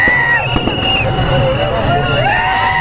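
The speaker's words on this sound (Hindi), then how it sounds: "आतिशबाजी के साथ मेघनाथ के पुतले का दहन हुआ" Fireworks whistle and pop at an outdoor Dussehra fair as an effigy of Meghnath burns, with rising and falling whistles over a constant murmur of a large crowd.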